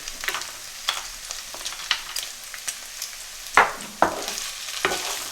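Cashew nuts stir-frying in a pan for a spicy chicken spaghetti: a light, steady sizzle broken by sharp scraping strokes of a spatula, a few of them louder and closer.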